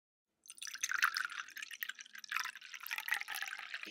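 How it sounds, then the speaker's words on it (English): A drink being poured into a cup, heard as a close, light trickling splash that runs steadily for a few seconds after a short silence, fairly quiet and unaccompanied. "Here's a little extra pour for your cup."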